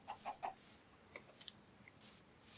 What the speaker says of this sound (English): Get out here amongst the chickens.